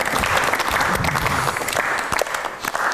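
Studio audience on a dating show clapping together, dense and loud applause from a nearby crowd lasting the whole moment.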